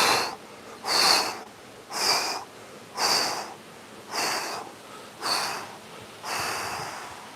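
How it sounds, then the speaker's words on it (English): Forceful exhales in an outdoor garden breathing exercise, seven strong breathy blows at an even pace, each about a second apart with short pauses between, close and clear with no talking. "A couple of forceful exhales as you slowly back up."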